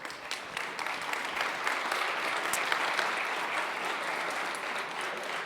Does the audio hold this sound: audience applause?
yes